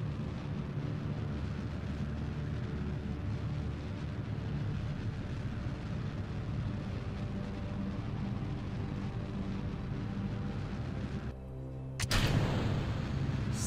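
A rocket engine burn in the spaceflight game Kerbal Space Program, a steady, loud, broadband roar that rumbles continuously, then surges abruptly with a brief break near the end as stages change.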